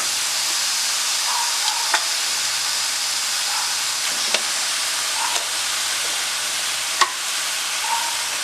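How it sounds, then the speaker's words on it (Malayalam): Mutton sizzles steadily in a pan while being sautéed for Malabar curry, a constant bright hiss broken by a few soft clicks and scrapes of stirring, with no talk over it. "നന്നായിട്ടൊന്ന് വഴറ്റി എടുക്കണം."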